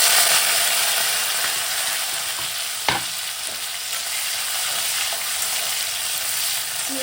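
Chopped tomatoes go into a pan of spinach curry, and a steady broad sizzle and frying hiss is accompanied by stirring scrapes, with one sharp clack from the utensil around the middle.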